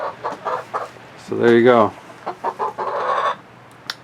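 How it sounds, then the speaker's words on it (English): Chickens sitting on a perch inside a sheltered chicken run cluck close by, with one loud drawn-out squawk, while a person speaks briefly over the birds. "All chickens are dry and out of the elements."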